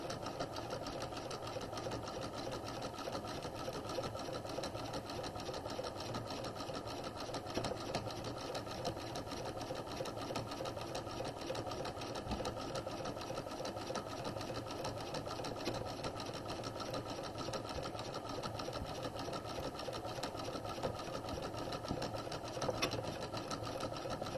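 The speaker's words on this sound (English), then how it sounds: "we're just going to stitch all the way around the skirt, staying as close to that folded edge as we can" A sewing machine runs without pause, stitching all the way around a skirt hem along the folded edge, a steady close whirring hum with a fast even needle rhythm and no talking.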